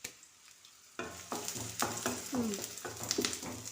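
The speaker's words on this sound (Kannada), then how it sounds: "ಈಗ ಇದನ್ನು ಫ್ರೈ ಮಾಡ್ಕೊಳ್ಳೋಣ." Green chillies and other ingredients frying in a pan: after a quiet first second, a loud, steady sizzle builds, broken by repeated stirring scrapes and clatter close by.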